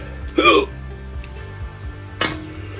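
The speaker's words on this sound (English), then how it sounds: "Hiccups." Two sharp hiccups, the first louder and voiced, the second a brief catch about two seconds later, over a steady low room hum.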